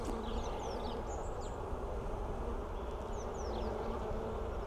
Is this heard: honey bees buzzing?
yes